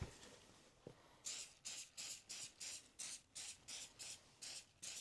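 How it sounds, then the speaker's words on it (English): Cleaner is sprayed onto a pair of old thrifted Vans canvas shoes in about eleven short, evenly paced hissing bursts. The sound is close but quiet, with a soft knock before the first spray. "So just spray it on."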